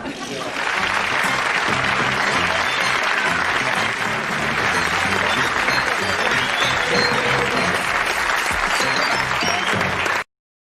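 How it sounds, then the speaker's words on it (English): Studio audience at a light-entertainment television special breaking into loud, sustained applause, a thick, even roar of many hands clapping together for about ten seconds before it cuts off sharply. "How anyone can get such applause and still stay as nice as me, I don't know."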